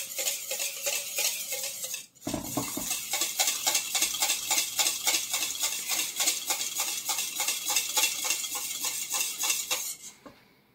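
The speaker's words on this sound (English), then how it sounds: "I'm going to keep stirring. So the yogurt mix together with the yeast." A spoon stirs a yogurt and yeast batter for Nigerian puff puff in a bowl, steady rhythmic clinks and scrapes against the bowl, repeating quickly and evenly, with a brief pause early on.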